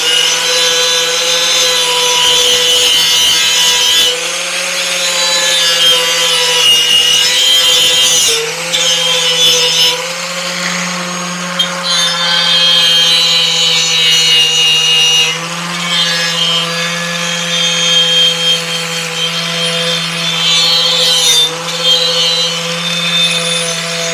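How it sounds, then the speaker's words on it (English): A power sanding machine grinds rust from the metal body around the engine compartment and boot of a BSA Ariel 3, a loud, continuous whining drone with a few brief dips in pitch and force. "anywhere else I will sand down with a sanding machine"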